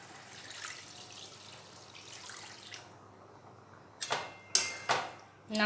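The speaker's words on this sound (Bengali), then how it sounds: "জল দিয়ে দেবো" Water poured into a pot of potatoes with coriander during fish curry cooking, heard as a few short splashing bursts near the end after quiet kitchen sounds, fairly close and loud.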